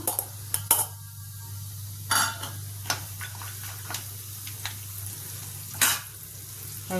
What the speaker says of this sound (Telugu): ఒక స్పూన్ పోపు దినుసులు ఒక స్పూను పల్లీలు వేసుకొని ఫ్రై చేసుకుందాం